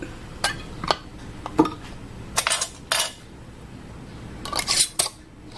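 A metal lid is set onto a glass canning jar of Creole sauce, giving a handful of sharp clinks and taps spread out over several seconds, close and clear in a quiet kitchen.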